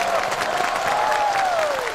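A studio audience at a live comedy talk show breaks into dense, continuous applause, sustained and fairly loud throughout, with a faint whistling tone gliding over the clapping.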